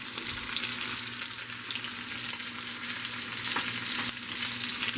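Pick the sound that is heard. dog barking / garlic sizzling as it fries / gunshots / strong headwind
garlic sizzling as it fries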